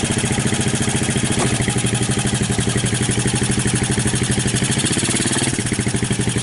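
A Suzuki Quadrunner LT160 ATV engine, revived from junk, idles a little high. The pulsing putter is steady, rapid and close, with no speech.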